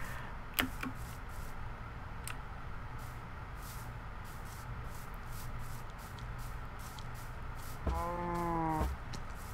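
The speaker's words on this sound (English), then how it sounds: "There's a sheep right behind that cow." Sheep and a cow in a video game: a short harmonic bleat rings out near the end over a steady low ambient background, with a few faint clicks earlier.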